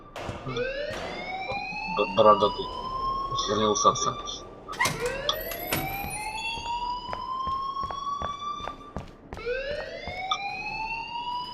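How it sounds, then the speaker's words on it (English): Fire alarm in Life Is Strange wails in repeated rising electronic sweeps, loud and continuous across the stretch, while someone talks over it. "please turn off that alarm since that's your job"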